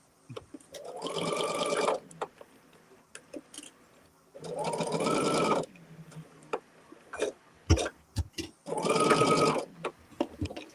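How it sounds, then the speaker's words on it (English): Three bursts of sewing machine stitching while quilting blocks, each a couple of seconds of rapid whirring, separated by quiet gaps with scattered clicks and taps. "Nora, get off my sewing machine foot."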